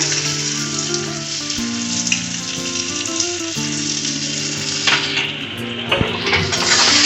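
Mustard paste frying in a pan for mango and snakehead fish curry, a continuous loud sizzle with occasional stirring scrapes and clinks, accompanied by steady background music.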